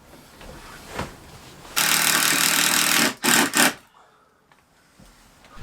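A power driver runs a screw into timber stud work in one sustained loud whir, followed by a few short bursts as the screw is finished, then quiet.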